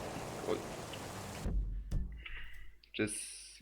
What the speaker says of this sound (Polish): Na pewno jest ulewa, jak to można nazwać.